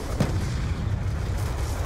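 A deep, heavy boom bursts out once near the start in the video game Call of Duty: Black Ops 2, leaving a rumbling, noisy tail behind it.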